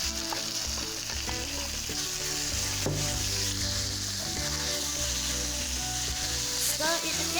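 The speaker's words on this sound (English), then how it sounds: "Stir it for 1 minute. Then add minced pork." Minced pork stir-frying in a hot pan for Thai basil pork (pad kra pao), a loud steady sizzle with clatter of a utensil stirring and scraping, continuous throughout with no talking.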